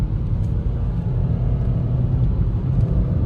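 A 2025 Nissan Altima's engine runs steadily while driving, a continuous low rumble and road drone held at an even level throughout with no talking over it.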